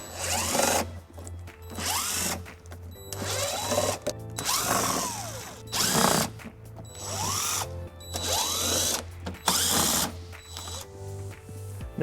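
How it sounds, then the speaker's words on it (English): A power tool with an 8mm socket spins out underbody panel screws on a 2017 BMW 530i, sounding in repeated loud bursts of whirring and ratcheting with short pauses between them. "we're going to be using an 8mm socket to remove those"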